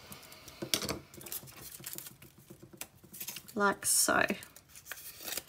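Scissors cutting paper around a scrapbooking template, giving a few quick, close snips and rustles, with someone speaking briefly between the cuts.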